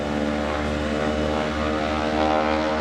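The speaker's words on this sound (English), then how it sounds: "Lovely sound of that propeller rapping as it slices through the air." A Super Stearman biplane at the Greenwood Lake airshow drones loudly and steadily, its propeller buzzing with a rich harmonic rasp over the engine's deep exhaust rumble, close and continuous with no voices.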